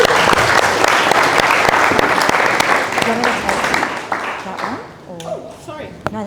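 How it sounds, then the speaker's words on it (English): An audience at a forest dieback symposium applauds loudly with dense, sustained clapping that gradually thins out toward the end, with a few voices emerging as it fades. "So please give me a big clap."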